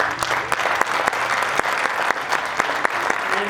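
A graduation ceremony crowd applauding steadily throughout, dense overlapping claps with a few sharper slaps standing out, fairly close and sustained.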